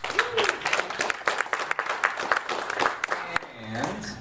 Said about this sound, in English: So let's have a quick round of applause for Spreadfast and for Cloudflare.